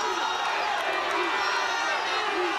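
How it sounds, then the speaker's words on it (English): A crowd at a women's Six Nations rugby match between Italy and Ireland, on its feet in the stand urging the team on: dense, continuous cheering and shouting close around the listener, with mixed voices throughout. "the crowd on their feet again, urging their team on right in front of us here in the stand"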